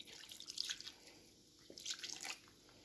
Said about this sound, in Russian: И добавляю газированную воду.